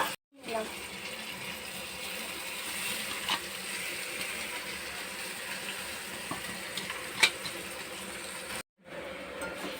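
Spice paste of Kashmiri chilli powder being stirred and fried in a pan for homemade chowmein, a steady broadband sizzle with occasional scraping clicks, running evenly then briefly cut off near the end.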